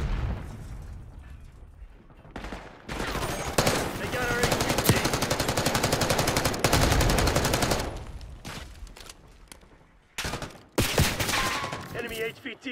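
Sustained machine-gun fire in Call of Duty Black Ops 6, loud rapid bursts with explosions, broken by short pauses and brief radio-style voices.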